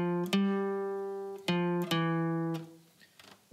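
Guitar notes picked one at a time from the O Canada melody, four clear plucked tones with a short pause between the first two and ringing decay, close and alone.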